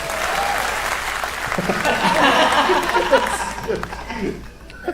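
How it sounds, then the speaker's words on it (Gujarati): An audience claps steadily and fairly close for about four seconds, with light chuckles and a voice or two mixed in. The applause then thins out and fades near the end. "હા ભાઈ, તાળીઓ તાળીઓ તાળીઓ"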